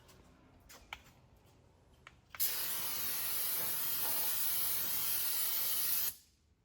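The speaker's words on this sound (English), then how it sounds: "have thoroughly sprayed our rotors off with brake clean" Brake cleaner sprayed onto car brake rotors in a steady, loud hiss lasting about four seconds, preceded by faint clicks and handling noises and cutting off abruptly.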